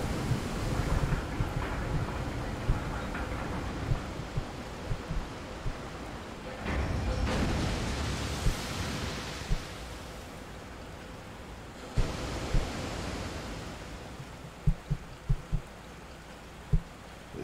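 A waterfall in the video game Resident Evil 4 gives off a steady broadband rush of falling water, swelling louder in a couple of stretches, with a few soft thuds near the end and no voices.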